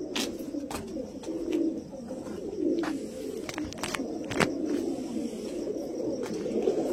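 A flock of Andhra pigeons coos in a constant low, rolling chorus, with scattered clicks and wing taps breaking through the steady murmur nearby.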